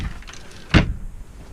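A single sharp clunk of a seat in a VW T4 high-top LWB camper van conversion being folded back up and locked into place, close and loud in a quiet interior.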